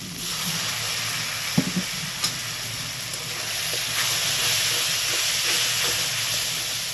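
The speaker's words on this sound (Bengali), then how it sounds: "কাশ্মীরি লঙ্কার গুঁড়ো ছোটো চামচের দু চামচ হালকা একটু জল দিয়ে কষিয়ে নেব" Spice paste of Kashmiri chilli powder and a splash of water fries in a pan for a prawn and soya kofta curry, giving a steady close sizzle and hiss with a few faint clinks.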